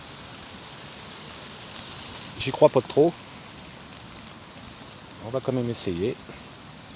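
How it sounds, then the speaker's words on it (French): Steady outdoor rain forms a continuous hiss throughout, with someone speaking French briefly over it twice. "Et ça n'arrête pas de pleuvoir, ça n'arrête pas."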